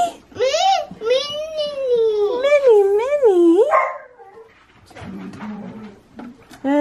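A dog whimpers and whines in long, wavering, rising-and-falling cries for several seconds, then goes quieter with softer shuffling and short yips, close to the listener.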